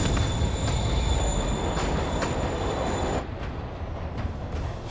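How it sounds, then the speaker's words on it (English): A train moves in the video game Spider-Man, giving a loud continuous rumble with metallic wheel squeal and rattling that abruptly drops to a quieter roll partway through. "Train's moving."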